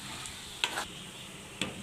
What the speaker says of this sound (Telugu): ఇట్లా అడుగు అంటకుండా సిమ్లో పెట్టేసి మెల్లగా తిప్పుకుంటూ ఉండాలి